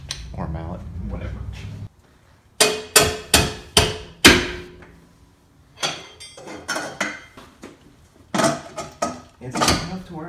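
A hammer or mallet bangs on a metal intake bracket during a supercharger install on a 4-cylinder Toyota Tacoma or 4Runner: a quick burst of five sharp, ringing strikes, then a few more scattered hits, with a voice talking in between.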